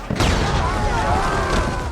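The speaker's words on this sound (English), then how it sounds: "The explosion sent several people flying, and made the others hesitate to rush forward." A loud, sudden explosion set off by a pressed detonator in a film battle scene, a broad booming blast with rumbling debris that fills the whole two seconds.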